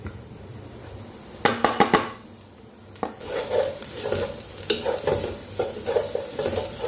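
Spices dropped into hot oil: a few sharp metallic clinks of a utensil on the pan, then a rising sizzle that swells and pulses as the mixture is stirred, close and fairly loud.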